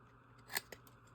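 A carving knife shaping the arms of a small wooden squirrel figure, giving one sharp, crisp cutting snap followed by a softer second click, close and quiet in a still room.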